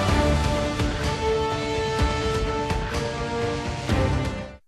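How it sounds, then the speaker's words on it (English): Original soundtrack music from the Halo 4 video game: a dense, sustained orchestral passage with held tones and soft rhythmic accents, playing continuously at even volume before ending abruptly, with no voices. "we got a sample of the original soundtrack music that's gonna be in Halo 4"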